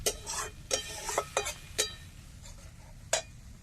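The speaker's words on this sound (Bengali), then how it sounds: "এবার মশলাটা জল দিয়ে দিয়ে ভালো করে তেল ছাড়া অবধি কষাবো" Spice masala is stirred and fried with splashes of water in a pan, with a few sharp scraping and clinking strokes of a spoon against metal over a faint low sizzle.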